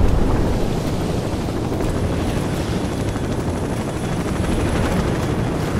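A helicopter in the Call of Duty Modern Warfare video game drones with a loud, steady rotor roar that fills the whole clip, close and constant with no voices.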